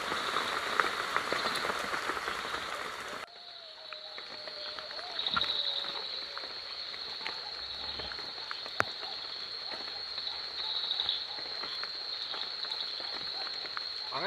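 Heavy rain falling in a forest, a steady dense hiss across the whole stretch, with a louder burst at the start and occasional sharper drips.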